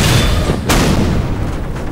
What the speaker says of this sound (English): I just see an explosion